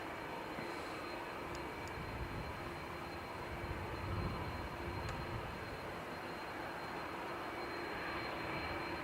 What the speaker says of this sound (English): ATR lining up for Newquay